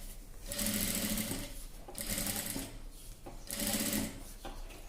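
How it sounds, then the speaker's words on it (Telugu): An electric sewing machine stitches along a dress neckline backed with buckram cloth, running in three close, steady bursts of rapid whirring, separated by brief pauses. "ఈ బక్రం క్లాత్ ఎట్లుందో అట్లా మనం స్టిచ్చింగ్ చేసుకుంటూ రావాలి"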